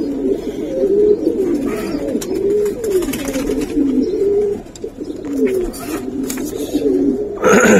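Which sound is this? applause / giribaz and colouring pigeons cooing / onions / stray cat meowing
giribaz and colouring pigeons cooing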